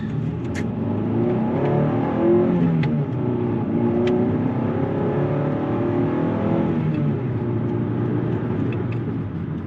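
A 1990 Honda Accord four-cylinder engine revs up and down repeatedly, rising and falling in pitch, close and steady with a raspy intake note.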